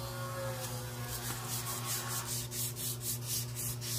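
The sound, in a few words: sanding metal with sandpaper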